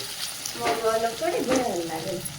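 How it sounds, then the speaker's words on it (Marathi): Onions sautéing in a kadhai until browned, a steady close sizzle and frying crackle with light stirring scrapes throughout. "आणि हे कांदे मस्त तांबूस कलरचे होईपर्यंत यांना परतवायचे आहे"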